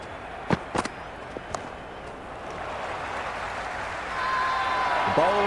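Stadium crowd at a T20 World Cup cricket match between Australia and Ireland, a steady broad roar that swells louder toward the end, with a few sharp shouts early and commentary voices over it.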